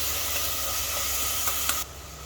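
Red chili powder and turmeric sizzle while sautéed for a Sindhi methi matar pulao: a steady, dense hiss of frying runs continuously, then drops sharply to a quieter level near the end.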